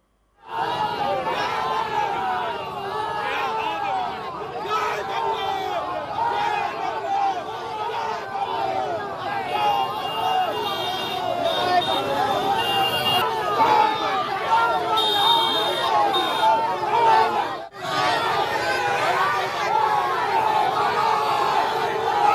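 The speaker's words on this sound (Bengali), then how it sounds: "পতাকা হাতে কিন্তু তাদেরকে দিলীপ ঘোষকে লক্ষ্য করে গো ব্যাক স্লোগান দিতে দেখা যায়" A crowd waving flags chants go-back slogans at politician Dilip Ghosh during a tea meeting in Fuljhore, Durgapur, a dense, continuous roar of many shouting voices, loud and close, with a brief dip near the end.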